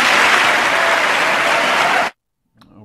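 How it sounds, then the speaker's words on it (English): Members of Congress give loud, sustained applause in the chamber, a dense roar of clapping that cuts off abruptly, followed by a brief bit of quiet talk. "huge applause there by Congress"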